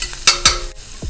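Ginger and five chopped garlic cloves hit hot oil in a preheated wok, giving a loud close sizzle with a few sharp stirring scrapes and clacks over about a second.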